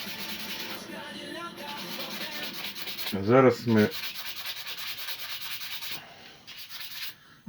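A wooden knife handle is sanded with continuous, close rubbing strokes throughout, briefly interrupted by someone speaking a few words.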